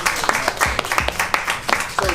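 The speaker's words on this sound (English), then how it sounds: "Give them another hand clap, please." A small group claps in a brief burst of applause, sharp uneven hand claps close by, with a voice speaking over them.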